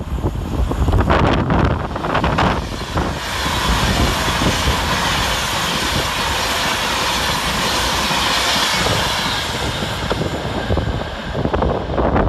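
Class 319 electric multiple unit running through Stafford railway station, a loud sustained rumble and wheel roar with heavy wind buffeting on the microphone as the train passes close by, no voices.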